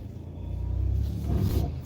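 A Chevrolet Impala SS stuck in dangerous weather, its engine revving in a rising, sustained low rumble that swells and holds for a couple of seconds, close and fairly loud.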